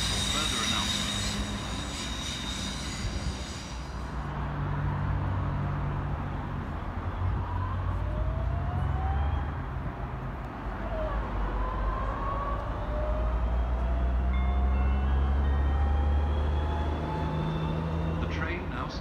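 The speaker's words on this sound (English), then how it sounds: "The train now standing at platform 1 terminates here." Steam locomotive 60009 Union of South Africa standing at a station platform at Poole with the Cathedrals Express, a steady low rumble and hiss beneath a public address announcement, with some higher squeals drifting through.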